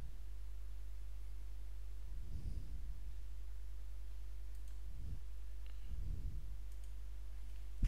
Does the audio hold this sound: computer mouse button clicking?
yes